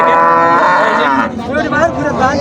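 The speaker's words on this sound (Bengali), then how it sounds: "এই গরুগুলো কিন্তু দেখা হচ্ছে অলরেডি মনু ভাইয়ের কাছ" Cattle at a cattle market mooing loudly and close, a long drawn-out low bellow whose pitch wavers and rises toward the end, with no talking.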